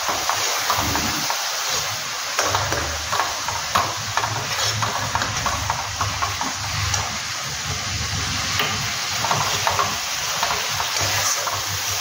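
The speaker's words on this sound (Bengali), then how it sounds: "একটু মশলাগুলো দিয়েছি, একটু ভেজে নেওয়া আর কি" Masala spices with Kashmiri chilli powder, a splash of water and melted tomato fry and get stirred in a pan, a steady close sizzle with scraping stir strokes throughout, no talk.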